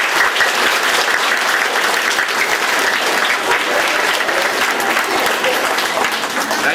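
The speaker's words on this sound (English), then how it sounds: "Will we give them a big round of applause to welcome them?" Loud, sustained applause from a school audience welcomes a visiting high school orchestra on a trip to Rome, a dense wall of clapping from many hands filling the room steadily throughout.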